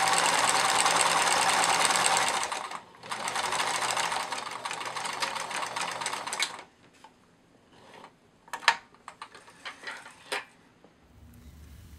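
A sewing machine stitches plush otter fabric in two loud, steady runs, the first about three seconds and the second about four, separated by a short pause, then gives way to quieter clicks and handling of the fabric.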